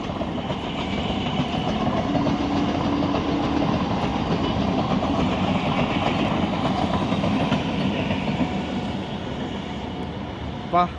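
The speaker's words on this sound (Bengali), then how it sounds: "উড়ালপুল থেকে দেখো ট্রেন যাচ্ছে দেখো দেখা যাচ্ছে" A train runs along the railway track below a flyover, a steady rolling rumble with rhythmic clatter of wheels on rails that stays loud and even, with a brief knock near the end.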